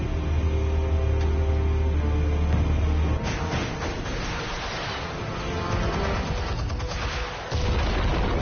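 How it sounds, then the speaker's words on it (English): Explosives going off in a Batman game episode: a loud, sustained roar of blasts and booming detonations, heavy for the first three seconds, then a rumbling, crackling barrage that swells again near the end. "Explosives armed. Fire when ready."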